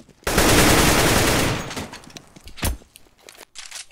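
Sustained automatic gunfire in Counter-Strike: Global Offensive, a loud dense burst of rapid shots for over a second, then a few scattered shots and clatter fading off.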